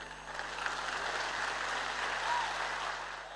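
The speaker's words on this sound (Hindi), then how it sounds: "आप सबकी जोरदार और जबरदस्त तालियों के बीच में" An audience at a Modicare event in Varanasi applauds, a steady wash of clapping from a large crowd that holds for a few seconds at moderate loudness and dips briefly before swelling again.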